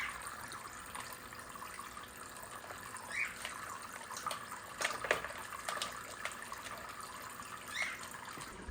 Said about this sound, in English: You're washing the dishes with your scrub daddy